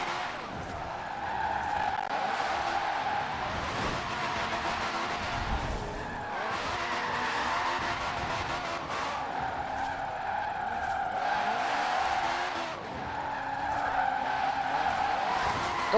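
A Citroen 2CV drifts and skids in a racing video game, with engine drone and tire squeal rising and falling in repeated waves, and a voice talking over it at times.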